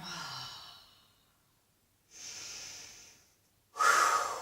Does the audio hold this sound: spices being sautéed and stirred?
no